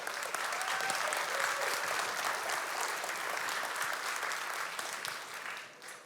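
A large conference audience at TOKEN2049 in Dubai breaks into sustained, dense applause that holds steady for several seconds and then begins to thin and fade at the end.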